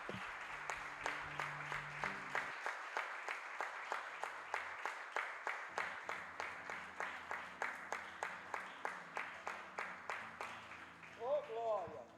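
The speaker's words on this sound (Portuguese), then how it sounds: "dê uma linda salva de palmas ao nome dEle" A church congregation claps in a strong, even rhythm, roughly two claps a second, with singing or music underneath and a voice rising near the end.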